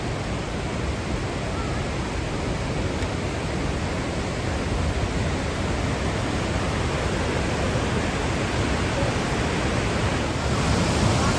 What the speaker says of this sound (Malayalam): ഇതാണ് ബാഡ് കാസ്റ്റൈൻ വാട്ടർഫോൾ